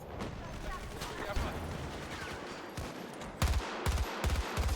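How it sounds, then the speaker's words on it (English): Bursts of rapid minigun fire in the shooter game Battlefield 2042, short heavy volleys that grow louder and punchier near the end over a steady background of battle noise. "you just get the minigun out and you don't even have to look or know where you're shooting"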